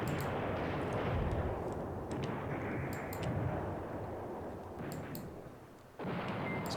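Continuous low rumbling artillery bombardment in the Command Ops 2 wargame, a dense unbroken roar of distant booms with a brief dip near the end before resuming, no talk over it.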